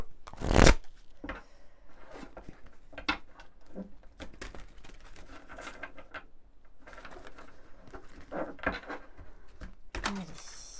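Oracle cards being shuffled by hand in repeated riffling, flicking bursts, close and fairly loud, with a sharper slap near the start and no voices.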